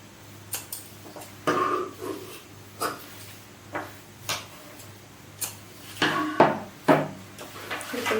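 Scissors cut through blouse fabric, several crisp snips and short crunching strokes spaced irregularly, close up against a faint steady hum, with no voices.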